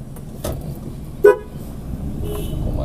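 A single short car horn toot on a road near a ferry harbour on Simeulue island, sounding over a low idling engine and road rumble.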